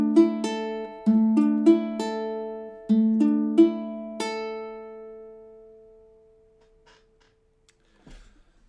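Ukulele riff of plucked and strummed chords, about a dozen bright, close strikes in a rhythmic pattern, the last chord left ringing out into near silence.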